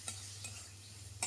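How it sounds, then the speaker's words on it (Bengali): Spices with turmeric and salt being stir-fried in a pan for a jackfruit seed curry, a soft low sizzle under a few faint utensil scrapes, quiet and close with no speech. "এরপর মশলাটা ভালো করে কষিয়ে নেব।"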